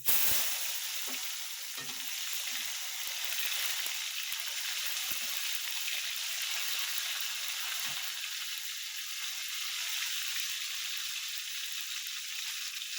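Tomato hits hot oil with whole garam masala spice tempering in a kadai, giving a loud, constant hiss and sizzle that continues without talk.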